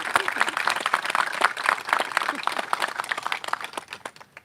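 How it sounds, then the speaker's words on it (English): Audience applause at a gun violence prevention awareness event: dense, steady clapping from a crowd, moderately loud and sustained throughout, tapering slightly at the end. "Can we give all those groups a huge round of applause?"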